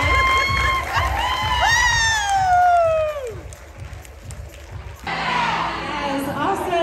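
A crowd cheers and claps loudly at a dance competition awards ceremony while an amplified voice speaks over it, then the cheering fades and talking continues.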